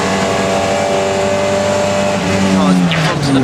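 Classic hatchback race cars brake hard at Donington Park, a dense engine roar with falling pitch as the pack slows, loud and steady throughout under a commentator's voice.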